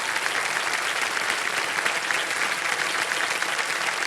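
Dense, sustained applause from a studio audience on the KBC quiz show set, loud and even throughout with no gaps.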